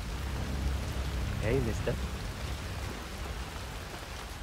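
Steady rain falls in Hitman 3, a dense hiss of drops on surfaces throughout, with a brief spoken line partway through.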